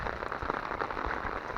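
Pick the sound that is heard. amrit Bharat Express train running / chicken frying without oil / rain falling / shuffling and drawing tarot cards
rain falling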